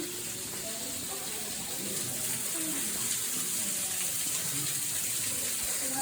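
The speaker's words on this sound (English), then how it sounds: "Alright, here's the waterfall again." Waterfall inside a sea cave, a steady broadband rush and splash of falling water that holds constant and fairly loud throughout, with no voices.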